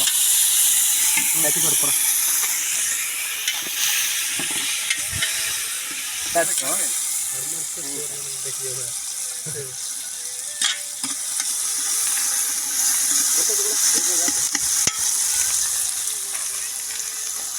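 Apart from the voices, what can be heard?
ginger garlic paste frying in pan for tomato chicken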